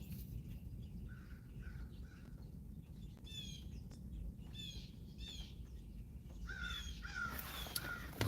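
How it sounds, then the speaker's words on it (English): Crows cawing outdoors, a few short harsh calls spaced out against a quiet low rumble, growing denser and louder toward the end. "listen to the birds chirping."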